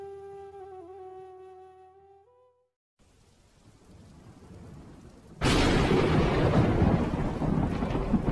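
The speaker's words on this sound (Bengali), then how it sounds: "বাইরে বৃষ্টি হচ্ছে, নদীতে গিয়ে দেখি।" A heavy rainstorm with thunder: after a fading musical tone and a brief silence, a low rumble builds. Then a loud, dense rush of pouring rain starts abruptly and keeps going, near and steady.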